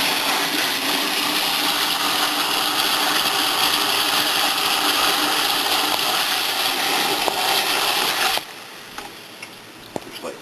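Water pours steadily into a brewing bucket marked in gallon increments for all-grain beer, a loud rushing hiss that runs for about eight seconds and then stops abruptly, leaving faint clicks.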